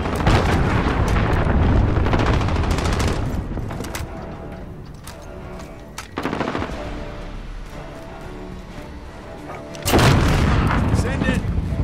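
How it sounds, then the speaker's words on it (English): Cruise missile blasts in Call of Duty: Modern Warfare on the Rust map, a heavy rolling barrage of loud booms and rapid gunfire that dips mid-clip and then erupts again near the end. "Enemy cruise missile incoming."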